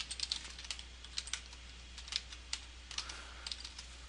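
Time entries being typed on a computer keyboard: quiet, irregular clusters of key clicks over a few seconds against a faint steady hum, with no speech.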